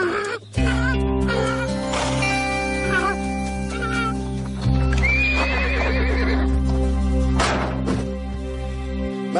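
A horse whinnies loudly several times, close by, with shrill rising neighs, while hooves clop and shuffle underneath.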